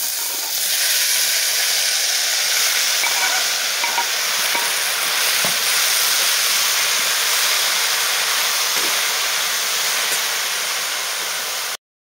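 Spinach being sautéed in a masala of spices in a pan, with a loud, continuous hissing sizzle that starts abruptly and holds steady for several seconds before cutting off.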